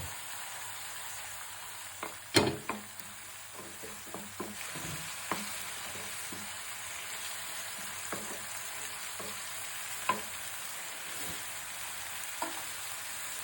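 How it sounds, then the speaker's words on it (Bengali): Spice paste for prawn malai curry frying in a pan, a steady soft sizzle with scattered clinks and scraping stirs, including one sharper knock near the start, close and fairly quiet. "এই মশলাটা আগে ভালো করে কষাবো, অনেকক্ষণ ধরে কষায় নিব।"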